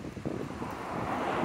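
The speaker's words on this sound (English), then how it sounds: "It is windy out here" Wind blowing outdoors beside a busy little road, a steady broadband rush that swells slightly toward the end, with no voices.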